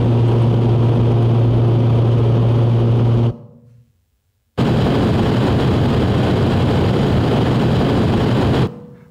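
Two contrasting car sounds presented for an automotive acoustics comparison: a droning engine tone with a steady low hum, then after a short silence a broad rushing aerodynamic wind noise, both loud and steady.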